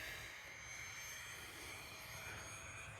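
An E-flite Habu STS 70mm electric ducted-fan RC jet at full throttle on takeoff from grass, a steady, faint whooshing fan roar that holds even throughout, with no voices.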